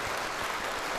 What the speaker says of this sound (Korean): 박수까지 받을 줄 몰랐지만